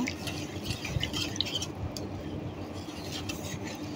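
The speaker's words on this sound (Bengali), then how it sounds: "আমি ভালোভাবে মিশিয়ে নিচ্ছি দুধটা" A spoon stirs cold milk mixed with powdered milk and sugar in a pot before the stove is on, giving soft continuous swirling and faint clinks, quiet and close.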